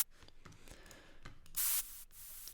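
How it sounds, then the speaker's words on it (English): A short burst of white noise taken from a downlifter sample, loud and hissing across the whole range, sounds once for about a quarter second amid faint clicks and quiet background rustle. "It is a sound which is white noise, but a really short snippet."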